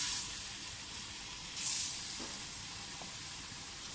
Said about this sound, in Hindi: ऑयल मैंने डाल दी है, कढ़ाई हमारी गर्म हो गई है। सबसे पहले इसमें चिकन डाल दें।